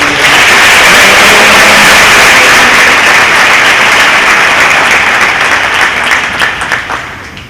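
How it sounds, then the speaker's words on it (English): Sustained crowd applause at a high school signing day ceremony for the Vandegrift Vipers, loud and dense from the start, thinning and fading toward the end with a few scattered claps. "one more round of applause for man"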